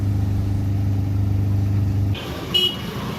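A small Magic utility vehicle's engine drones steadily while crossing a bridge at night, then the sound shifts to road rumble with a brief higher-pitched toot near the end.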